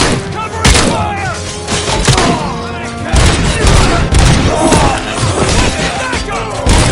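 Sustained bursts of gunfire with heavy thuds and crashes from a Robocop video game shootout, loud and dense throughout with a sharp burst near the start and another around the midpoint, game voices occasionally mixed in.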